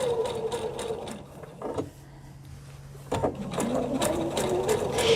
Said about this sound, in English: we're just going to sew down the edge right here